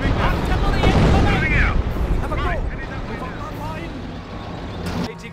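An incoming artillery barrage pounds the battlefield in the Company of Heroes video game. Deep, rumbling explosions roll together loudly, then fade, while soldiers' voices call out over the din.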